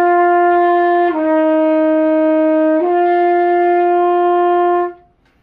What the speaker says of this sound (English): So if I press the first valve down, it would make the sound go a little bit lower,